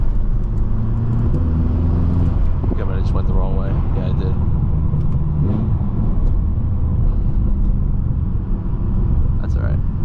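A tuned 800 hp Stage 2 BMW M6 rumbles loudly and revs as it drives on a two-lane road, with a deep, continuous engine and exhaust drone under a voice.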